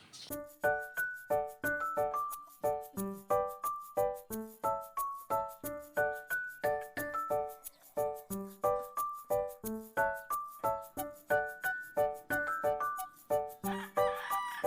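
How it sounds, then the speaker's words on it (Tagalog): Young roosters (stags) tethered in a cording area crow over and over, many overlapping calls from several birds close and far, with near-constant rhythmic pulses and no talk. "Ito naman yung mga stag na bagong tali sa cording area."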